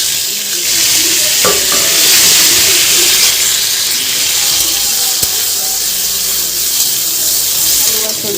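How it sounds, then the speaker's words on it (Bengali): Potatoes and drumstick pieces frying in oil with whole cumin, a steady close sizzle, with occasional scrapes and knocks as they are stirred in the pan. "আলু আর সজনে ডাঁটাটা ভালো করে ভেজে নেব।"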